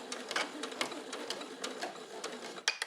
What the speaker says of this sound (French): Donc je fais point arrière.